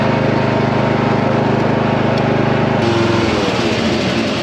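A riding lawn mower engine running steadily after a hard start on a frosty day, a loud close droning hum with a brief shift in tone partway through, with no voices.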